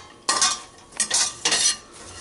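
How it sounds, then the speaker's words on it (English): Chopped onions, green peppers and celery sweating in a pan for vegetarian dirty rice are stirred in three short bursts of scraping and clinking, with quiet pauses between. "Move those onions. Sweat those onions."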